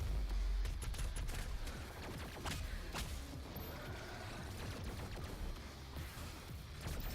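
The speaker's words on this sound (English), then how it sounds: "Alright, let's toss a grenade over there." Gunfire and blasts in the first-person shooter DOOM Eternal on Nintendo Switch, a heavy boom at the start followed by a busy stream of sharp shots and impacts.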